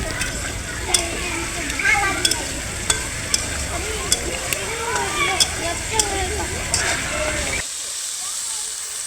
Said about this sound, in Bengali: এখানে আমি বরবটি আর আলুটা ভেজে নিচ্ছি এখন